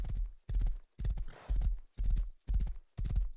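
A video-game horse's hooves beat in a regular, close rhythm of about two strikes a second, with a brief noisy burst midway that may be a whinny.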